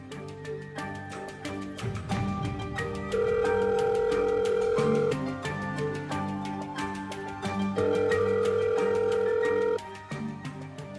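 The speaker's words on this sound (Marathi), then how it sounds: "थांब, मी तिला फोन करते." A telephone call rings back in long, sustained electronic tones with pauses between them, steady and fairly loud, over a quiet background with no talking.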